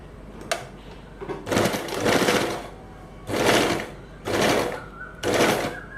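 A sewing machine stitching a ladies' salwar pant, running in four loud bursts of rapid stitching with short pauses between them, close up and with no voices.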